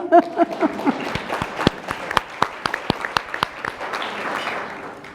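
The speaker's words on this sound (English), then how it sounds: "I should stop now and let you applaud." Scattered clapping from a small audience at a sustainability talk, a brief voice at the start giving way to distinct, separate claps that thin out toward the end.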